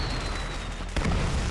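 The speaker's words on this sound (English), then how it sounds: "Wow, a firecracker." A firecracker bursts in the Arknights video game during a New Year's scene, a single sharp explosive pop over steady background noise, followed by a brief rumbling tail.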